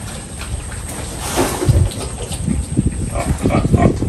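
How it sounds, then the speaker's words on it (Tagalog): Farm pigs kept for sale grunt and squeal close by in a continuous, busy jumble of rough snorts and louder squeals. "That's our piggies."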